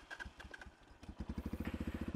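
A motorcycle engine labours on a steep trail ride toward Buaca Lake in Kayapa, starting with a few uneven revs and blips, then settling into a fast, regular loping chug close to the mic.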